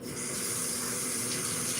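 Water from a kitchen tap runs steadily into a pan, a loud, constant rushing splash with no break and no voices.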